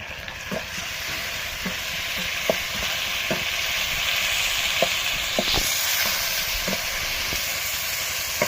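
Ground spice paste and bay leaf frying in oil for a duck curry, a constant close hiss and sizzle with a few sharp stirring knocks at intervals, no voices.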